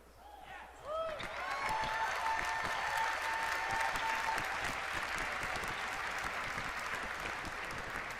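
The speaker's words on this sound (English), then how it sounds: "I hear people cheering" A large BlizzCon audience breaks into sustained applause and cheering that swells after a second and then holds as a dense, distant wash of clapping for several seconds.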